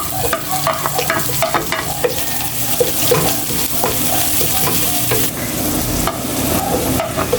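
Garlic and onion fry in annatto oil in a wok, a loud, continuous close sizzle broken by repeated scraping stirs and light clinks of a utensil against the pan.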